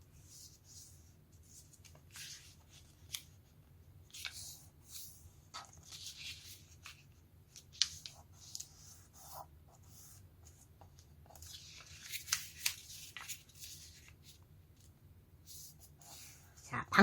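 Colored paper being folded into a paper spinning top: soft, close crinkles, creases and brief rustles, scattered and quiet over a low steady hum.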